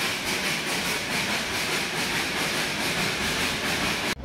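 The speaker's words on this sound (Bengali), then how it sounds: "এবার আমাদের টয় ট্রেন নিয়ে যাচ্ছে ঘুম স্টেশনের দিকে।" The Darjeeling toy train running on its rails toward Ghum station gives a continuous, loud rumbling roar with faint rhythmic clatter that stops abruptly at the end.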